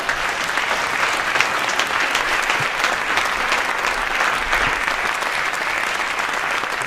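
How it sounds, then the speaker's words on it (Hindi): A large audience at a Hindi poetry gathering (kavi sammelan) bursts into dense, continuous applause to welcome a poet, loud and sustained throughout without a break. "उनके स्वागत में अब तक की कवि सम्मेलन की सबसे घनीभूत तालियां बजाइएगा"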